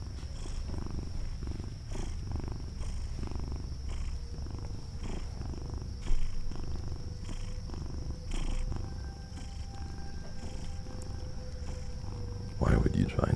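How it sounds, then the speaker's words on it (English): A pet cat purring close by, a low continuous rumble running under the hum of a stream room, with a few brief louder bumps and a short burst of noise near the end. "I don't know if you can hear her purring."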